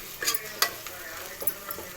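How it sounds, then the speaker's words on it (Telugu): Ginger garlic paste fries in a pan, a soft continuous sizzle broken by several quick scraping stirs and clicks of a utensil against the pan, close and fairly quiet. "ఇప్పుడు అల్లం వెల్లుల్లి పేస్ట్ కొంచెం ఎక్కువ వేసుకోండి."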